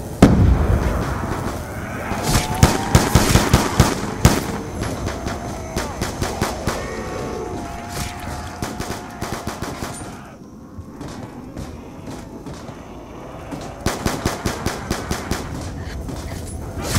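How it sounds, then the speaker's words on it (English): Firecracker or bomb explosions go off in rapid, loud bursts and crackling volleys, some close and some trailing off, with a short lull in the middle before another dense run of bangs. "who threw a bomb?"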